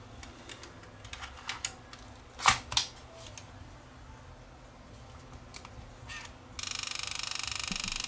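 The mechanism of a faulty Sony TCD-D7 DAT tape deck clicks twice in quick succession, then a steady buzzing whir starts as it runs a tape, close and fairly quiet.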